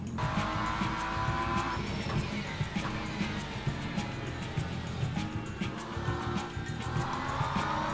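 GT3 race car lapping Spa in the sim racing game Le Mans Ultimate, a loud continuous engine roar rising and falling through gear changes with tire noise, a voice faintly present beneath.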